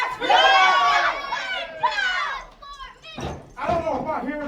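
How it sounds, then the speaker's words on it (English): Loud, excited crowd at a wrestling event, with shrill cheering and yelling voices that swell and fade in bursts close by. "The crowd hot and heavy right now. They're all cheering for it."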